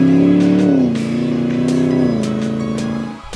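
A custom Land Rover Defender 110 with a supercharged LT4 V8 revs hard, its loud, close engine note rising and holding before easing off and dropping away at the end.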